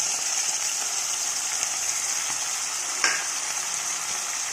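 Chopped tomatoes stirred in a frying pan for a mixed-bean curry hiss with a loud, steady sizzle, and a spatula scrapes and taps now and then, one sharper knock in the middle.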